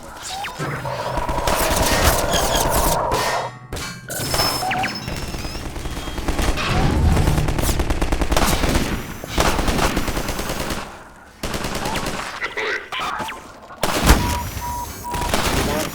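Gunfire in Half-Life 2 Episode 1, with bursts of rapid, loud shots crackling through a street battle in long stretches, broken by brief pauses and a sharp crash near the end.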